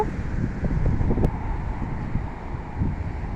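Strong wind in Canada buffeting the microphone in a continuous rough roar, with gusts rising and falling throughout.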